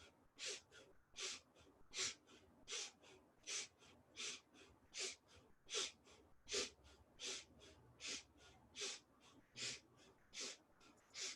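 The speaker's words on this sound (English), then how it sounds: "Now, if you can, bring it to a breath of fire." Breath of fire practice in a breathing class, rapid rhythmic forceful exhales through the nose repeating about twice a second, steady and close, with no talking.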